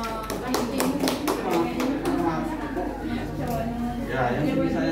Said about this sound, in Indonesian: Beri aplaus untuk Ima.